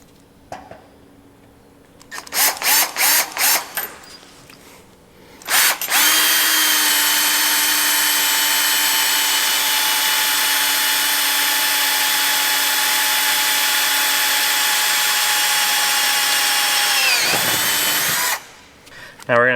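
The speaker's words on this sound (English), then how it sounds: "start with a 1/4 inch bit, poke that one through, and then we're going to finish out the hole with our 3/8 inch bit" A power drill bores through a steel truck frame rail on a Squarebody, starting with a few short bursts, then running a long, steady whining stretch before spinning down, loud and close with brief talk.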